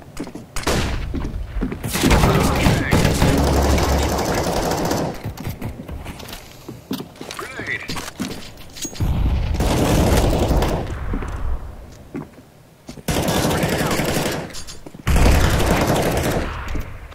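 Gunfire and a flashbang burst in Counter-Strike: Global Offensive, with several loud bursts of rapid shots and blasts separated by short lulls, sounding close and dense throughout.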